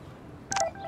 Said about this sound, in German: Ah, eine SMS von Warren.